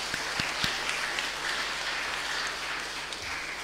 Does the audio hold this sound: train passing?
no